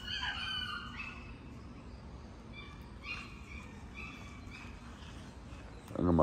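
Chickens cluck and squawk in short bursts in a backyard, moderately near, with a sharper noisy burst at the end.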